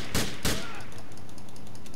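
Two heavy, booming shotgun blasts in quick succession in Grand Theft Auto IV, followed by a lingering rumble and echo.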